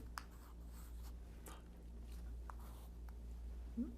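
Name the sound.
writing equations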